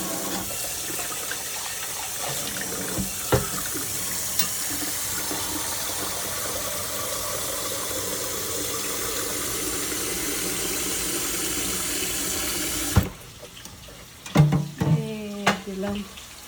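Water pours steadily into a pot set on to heat in a home kitchen while greens fry nearby, a continuous rushing stream that stops abruptly near the end, followed by a few clanks and knocks.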